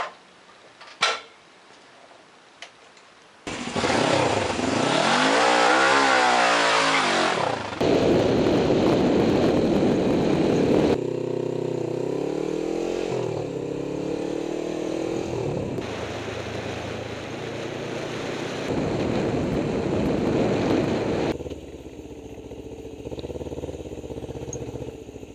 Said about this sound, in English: I'm going to take this bike down the road and over to the state park